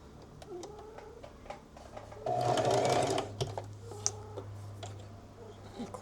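Home sewing machine stitching fabric, a close mechanical whir that swells loudly for about a second mid-clip among lighter clicks and handling noises, with no talking.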